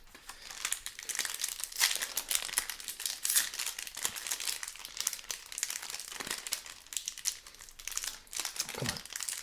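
Foil booster pack wrappers from Baldur's Gate and Adventures in the Forgotten Realms collector boxes are torn open and crinkled, with dense, close rustling and sharp crackles that run on without a break.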